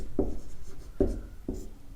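A pen strikes and scratches across paper while Hindi grammar notes are written by hand, three short distinct strokes spaced about half a second to a second apart, close and fairly quiet, with no talking.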